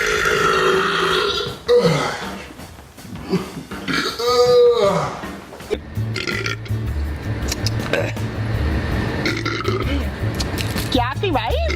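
A man lets out loud, drawn-out burps, one after another, with croaky, rumbling textures and short pauses between them; his voice rasps through several belches close to the mic.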